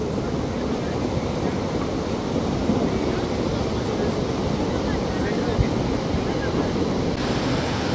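Heavy, fast-flowing river water rushing beneath a bridge on the Shrikhand Mahadev trek route in Himachal Pradesh, a loud, steady roar that fills the whole stretch without letup.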